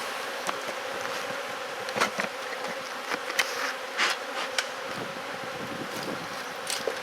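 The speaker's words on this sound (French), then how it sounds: "D'un fumoir, dégager les abeilles." Honey bees buzzing around hive frames being cleared with a smoker, a steady close drone of many insects with occasional sharp clicks and knocks of handling.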